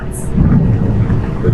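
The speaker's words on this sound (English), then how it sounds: "the rains are with us" Heavy rain falls through a thunderstorm, and a loud, continuous rumble of thunder rolls close by.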